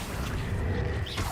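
Accio summoning spell cast in Hogwarts Legacy, a loud, rushing magical whoosh over a dense, rumbling low layer, lasting about a second and a half with no talking.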